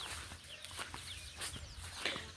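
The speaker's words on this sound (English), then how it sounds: "You can hear the sounds of the birds, sights and sounds." Birds call from around a thick African forest being cleared for farming, scattered chirps and clucking notes at moderate distance over a steady outdoor hum.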